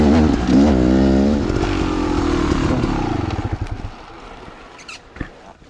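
A Beta XTrainer dirt bike engine revs loudly and close with throttle blips, rising and falling in pitch, then settles toward a lower idle.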